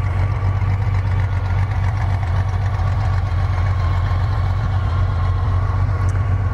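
A 2004 Honda Rune motorcycle engine runs steadily at idle nearby, a constant low throbbing rumble with no talk over it.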